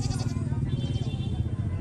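Goats bleating amid a crowded highland market in the days before Tet, a steady near murmur of animal calls under busy background noise.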